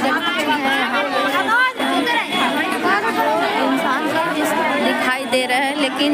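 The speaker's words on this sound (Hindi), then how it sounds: "इतनी सारी भीड़ इकट्ठी हो गई है, देख लीजिए इतनी सारे" A large crowd gathered at a candle vigil chatters continuously, a dense steady babble of many overlapping voices close by.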